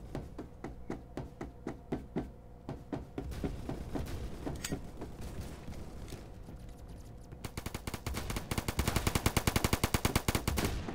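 Rapid automatic gunfire from a first-person shooter in Roblox Phantom Forces, with bursts of sharp shots at first and then a dense, loud volley of fire near the end, heard without any talk.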